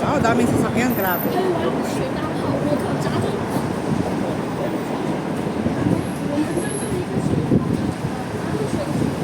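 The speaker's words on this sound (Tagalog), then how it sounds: "Oh, daming sasakyan, grabe." Dense road traffic, with many vehicles passing near a bridge, forms a continuous loud rumble and roar with no breaks, and crowd noise and voices mix into the din.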